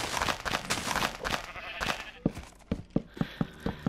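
Minecraft sheep bleat in a video game. Dense, busy layered sound gives way to a run of short, evenly spaced bleats near the end, heard alone with no talk.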